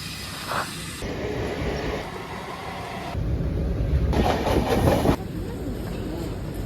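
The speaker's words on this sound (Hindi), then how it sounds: "देख सकते हैं ये सियालदा स्टेशन है" Trains and platform bustle at Sealdah railway station in Kolkata, with a steady rumble and hiss of rail traffic that swells louder midway, high whines coming and going over the din.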